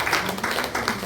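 A church congregation claps to encourage the pastor and worship leaders after a praise service, a brief burst of moderately loud, rhythmic applause.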